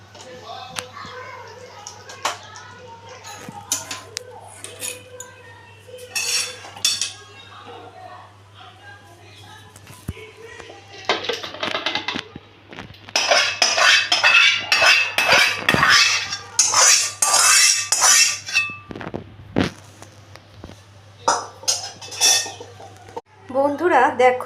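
Metal serving utensils clink and scrape against dishes while potol curry is served, a busy run of close, sharp clatters that grows denser and louder toward the end, with a voice talking over it.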